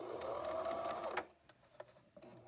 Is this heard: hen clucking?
no